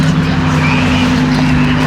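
A Lamborghini Huracan supercar engine at a supercar meet, a loud steady close drone held through the short moment with crowd and street noise.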